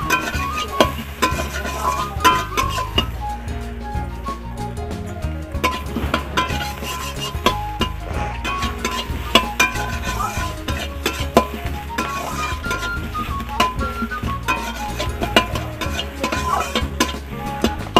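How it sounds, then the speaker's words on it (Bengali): Onion fries in oil in a wok, a steady sizzle under repeated scraping and clinking of a spatula stirring against the pan, continuous and close. "আমি পেঁয়াজটা একটু তেলে ভালো করে ভেজে নিই"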